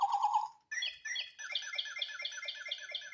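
A cuckoo bird calls in a quiet garden with plants, repeating a steady series of clear, rhythmic notes close by after a brief shorter burst of chirping.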